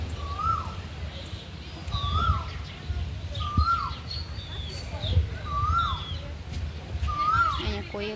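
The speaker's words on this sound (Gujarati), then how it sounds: "અહીંયા કોયલ બોલે છે" An Asian koel calls at sunset, repeating a rising two-part whistle roughly every second, clear over a low rumbling outdoor background with faint distant sounds.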